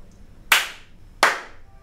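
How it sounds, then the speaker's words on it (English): Two single hand claps, about three quarters of a second apart, sound sharply in a home studio room during an acoustics test, each followed by a short, audible decay of room reflections. "So that is the clap test done."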